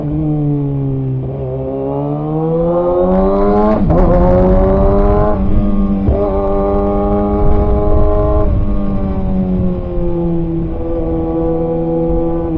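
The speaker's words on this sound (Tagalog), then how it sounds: "Enjoyin nyo na lang yung sound nitong ating ZX6R" A Kawasaki ZX6R motorcycle engine hums steadily and close while riding slowly through traffic, its pitch rising and falling with throttle changes and a sharper rev burst partway through, with no talk over it.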